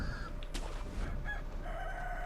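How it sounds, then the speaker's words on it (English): A chicken crows in the video game Sekiro: Shadows Die Twice, with a couple of brief squawks and a drawn-out call over a low rumbling game backdrop, moderately quiet and with no speech. "There are actually numerous experience chickens."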